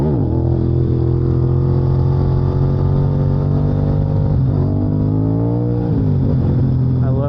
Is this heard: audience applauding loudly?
no